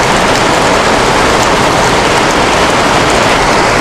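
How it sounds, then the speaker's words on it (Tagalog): Heavy tropical rain pouring steadily in a dense, loud, unbroken roar, drumming hard on surfaces with no letup and no voices. "Hindi na tumitigil ang ulan."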